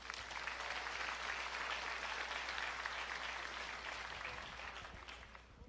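A church congregation applauds to welcome a pastor at a Bible-teaching gathering, with a steady, even wash of clapping that is fairly faint and continues without pause before tapering off slightly.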